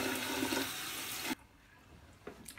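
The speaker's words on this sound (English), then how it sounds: "the first thing I like to do is wet my face with" Warm tap water runs steadily into a bathroom sink while someone wets their face as part of a morning skin care routine, a broad rushing stream that cuts off abruptly partway through, leaving faint splashes after.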